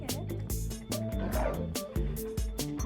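A dog barks and yips in short repeated bursts with whimpering between them, close and loud, during a training evaluation of a rescue dog interested in a toy.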